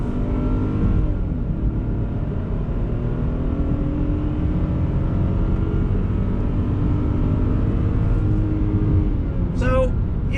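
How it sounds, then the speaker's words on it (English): A 2021 Ford Bronco Sport base model with an 8-speed automatic pulls away from a traffic light under throttle, its engine note rising steadily and loud throughout, with a brief high chirp near the end. "pulling away from the light, you can see the 8-speed automatic. We're not dealing with CVTs. On throttle, here we go."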